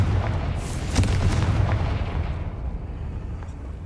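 Repeated booming blasts from the Confringo fire spell in Hogwarts Legacy, loud and rumbling, layered over a dense low roar with no talking.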